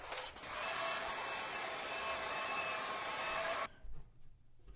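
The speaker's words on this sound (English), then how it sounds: "I'm going to hit it with a dryer." A hair dryer drying watercolor paint blows in a steady, loud broadband whoosh for several seconds, then cuts off abruptly, leaving faint handling noises.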